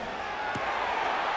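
Stadium crowd noise in the Madden 26 football video game, a dense steady roar of cheering fans on their feet for a third down, continuous and loud throughout with a brief thump partway.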